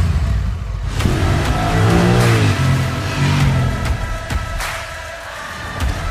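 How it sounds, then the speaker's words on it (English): A 2021 Honda Rebel 1100 cruiser motorcycle revs hard through quick shifts, the engine note rising and falling in sharp surges, loud and close, with no talking. "It's high revs, lightning fast shifts."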